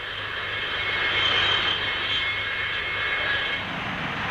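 An English Electric Canberra B-8 jet bomber flies past at a 1950s Farnborough airshow, its engines making a loud, steady broadband roar that holds for several seconds with a faint high whine on top.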